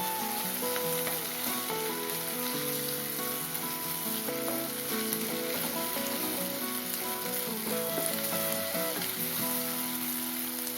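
Food sizzles and crackles steadily in a hot pan for several seconds while cooking a village-style dry fish curry, a dense frying hiss with no voices over it.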